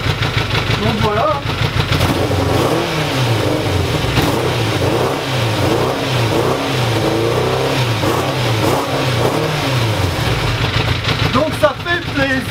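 A motorcycle engine that has just started runs close and loud, idling roughly with repeated revs that rise and fall. Someone talks over it the whole time.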